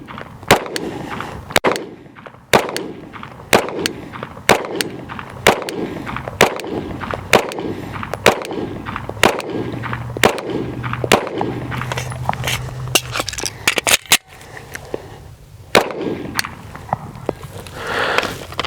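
Handgun shots during a trigger control drill, loud, close, sharp reports fired one at a time at a steady, roughly one-second rhythm, about sixteen in all, with echoing decays between them.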